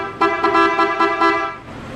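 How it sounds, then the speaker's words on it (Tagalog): Horn of a Honda ADV-150 scooter, a loud nasal tone pulsed in about five quick honks close by before fading. "busina natin"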